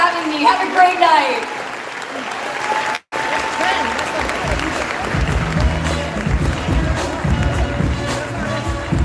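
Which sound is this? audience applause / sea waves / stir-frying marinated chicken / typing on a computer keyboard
audience applause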